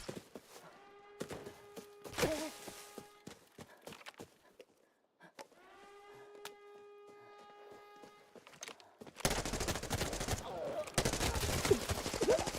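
Gunfire in the shooter game Arena Breakout Infinite: a few sharp single shots early, then a dense, loud stretch of rapid automatic fire near the end, with quieter gaps and faint game ambience between bursts.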